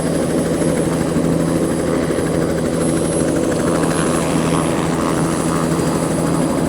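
Loud, steady drone of a light aircraft's propeller engine idling at an airfield, an unbroken close hum with a constant tone and no talking.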